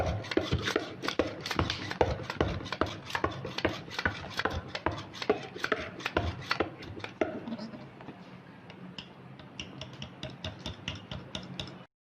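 Chicken nugget paste being stirred by hand in a bowl, giving a close, steady run of soft scraping and tapping strokes that thin out slightly toward the end.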